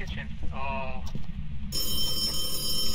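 In the horror game Phasmophobia a phone rings with a shrill, steady electronic tone that begins partway through and continues over a low background hum, following brief vocal sounds at the start.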